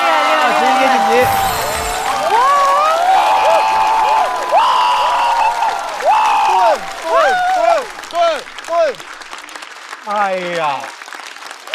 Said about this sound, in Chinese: 掌声送给蒋浩，第二轮第一位直接晋级的脱口秀演员。